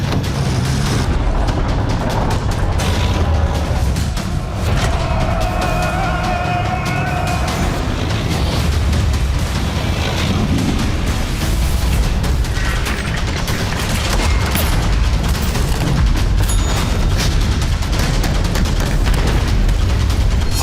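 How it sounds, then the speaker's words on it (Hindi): T-90 Bhishma tanks and artillery fire in a continuous loud barrage of booms and rumbling blasts, dense and overlapping, with mechanical clatter running through the whole stretch. "टैंकों की जो गर्जना आप देख रहे हैं"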